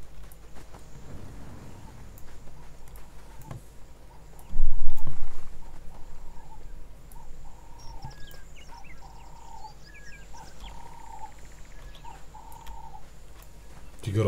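Rhythmic horse hoofbeats clop along steadily beneath the ArcheAge game soundscape, with a brief louder thump, a low drone, and scattered birdlike chirps and tones.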